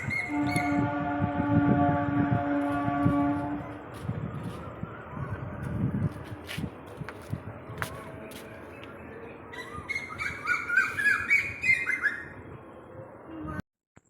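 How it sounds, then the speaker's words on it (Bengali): Birds call outdoors on a breezy evening: clear whistled tones and harsh squawks at first, then scattered chirps and a burst of livelier birdsong near the end, with wind in the background. "পাখির ডাক"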